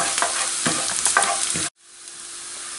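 Garlic sizzles and fries in a pan for bacon pasta sauce, a loud, dense crackle with stirring scrapes that cuts off abruptly and resumes as a softer, steady hiss.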